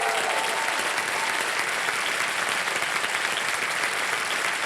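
A studio audience at a quiz show claps steadily as cheques are handed out to contestants, a dense, even wash of applause that stays loud throughout.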